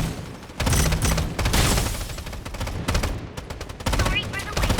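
Rapid gunfire in the shooter game Strinova, dense bursts of close automatic shots with short gaps, mixed with game sounds and some voice activity.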